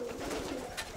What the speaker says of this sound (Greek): βλέπουμε ωραία περιστέρια τώρα